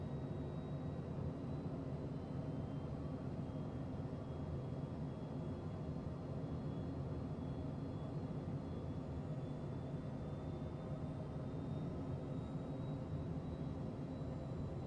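Airplane flying through a crosswind in the Tailstrike flight video game, a steady faint engine drone with a thin high whine, continuous and unchanging throughout.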